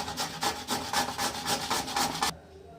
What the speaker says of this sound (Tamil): இதை வந்து நம்ம சீவ போகிறோம் கேரட் சீவுறத வந்து இந்த மாதிரி சீவோம்